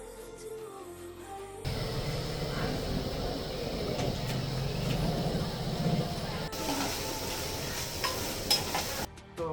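Valor beans tipped into sizzling onion gravy in a pan, a sudden steady frying hiss with stirring scrapes continuing for several seconds before cutting off.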